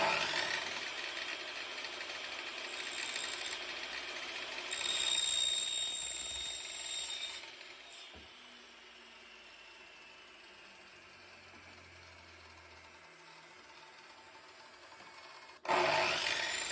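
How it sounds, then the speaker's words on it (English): A miter saw cuts off a piece of a cheap backhoe attachment, a loud whining buzz for several seconds that winds down, followed by quiet and a sudden louder burst near the end. "I'm just going to use a miter saw to cut this off"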